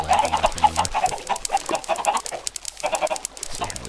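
Chickens in the Minecraft video game cluck in a dense, lively run of short calls that carries on steadily throughout, loud and close, with no talking.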